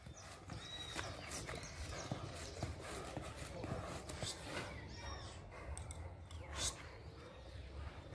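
A chestnut horse's hooves clip-clop in a steady walking rhythm, close and fairly clear, with faint outdoor background.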